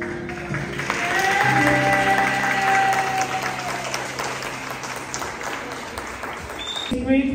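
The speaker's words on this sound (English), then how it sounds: "Great applause" An audience applauds at an elementary school Black History Month play, steady clapping filling the room for several seconds while a voice speaks over it near the end.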